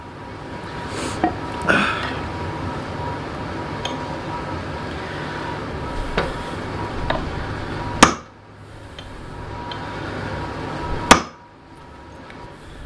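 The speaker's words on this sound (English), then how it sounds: "I'm going to see if I can give that a couple more whacks, see if I can get that down" A hammer strikes the loose head of a Cold Steel Trail Boss axe, giving two sharp, loud whacks a few seconds apart over steady background noise, with fainter knocks earlier.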